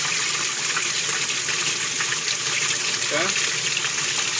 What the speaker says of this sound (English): See all that water that comes down the right side right there, as well as the left side?